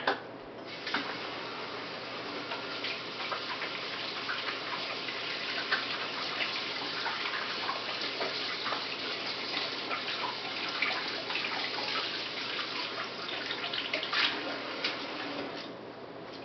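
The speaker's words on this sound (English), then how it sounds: "I'm going to wash my hands real quick." Water from a running tap pours steadily and softly for about sixteen seconds while hands are washed in a kitchen, a constant hiss with faint splashes and small clicks, no voices.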